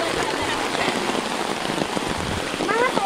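Steady rain pours down at night during a fishing trip, a dense close hiss of drops striking surfaces throughout, with a faint voice briefly under it.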